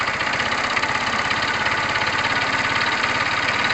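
Retro Tamoretti motorcycle engine running at a steady idle, a close, loud, even chuffing pulse that holds without change throughout.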